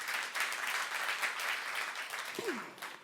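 A church congregation at a youth service applauds with steady, even clapping that sounds somewhat distant and soft throughout, tapering slightly at the end.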